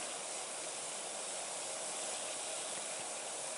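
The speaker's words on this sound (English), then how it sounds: "we've got a rapid boil going on there" Water boils hard in a pan on a wood-fired cube stove, a continuous dense hissing bubble with no voices.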